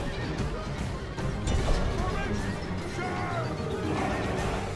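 Horses whinny amid a noisy battle din of clashing and shouting in the video game Rome: Total War - Barbarian Invasion, with a voice talking over the commotion.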